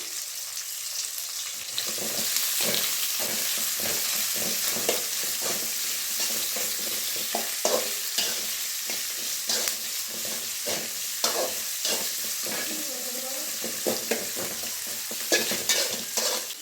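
Chopped onion and green chillies frying in a tempering for amaranth leaf palya, a steady loud sizzle broken by repeated scraping stirs of a spoon in the pan.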